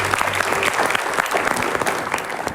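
Studio audience applause, a dense, steady patter of many hands clapping close by, sustained throughout with a faint murmur of the crowd.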